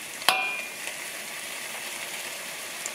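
Garlic hitting a hot fried-rice pan, starting with one sharp clatter and then a steady bright sizzle that holds close and even to the end.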